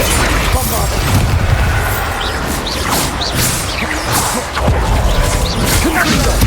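A Bombarda explosion spell going off in Hogwarts Legacy, loud booming blasts and crashing impacts with whooshes in a dense, chaotic battle mix, a voice shouting spell names over it.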